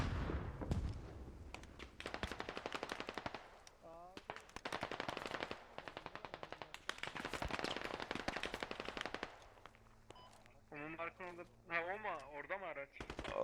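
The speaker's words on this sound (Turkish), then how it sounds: "Altı senin orada bir makinalı sıkıyor bize vursana şunu" Machine guns rattle in long, rapid bursts across a military battlefield in the shooter Squad, loud and close, with short pauses between volleys and voices talking over the gunfire.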